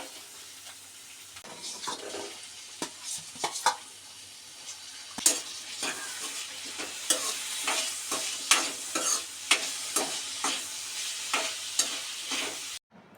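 Chopped tomatoes tipped onto softened onions frying in a pan for a potato curry, with steady close sizzling and repeated scraping stirs of a spoon against the pan throughout.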